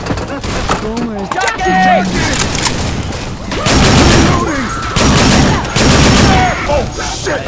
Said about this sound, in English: Gotta use a gun.